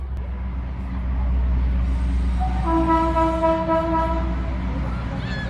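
A passenger train rolls past with a steady low rumble and a long, tonal horn blast that rises midway, heard outdoors at a nature park in the Belemedik highlands.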